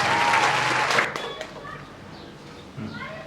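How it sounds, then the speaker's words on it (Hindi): Applause and cheering from an audience at a Bhojpuri comedy stage show, loud for about the first second and then fading to a lighter patter under voices and some whistle-like sounds. "ताली बजाओ।"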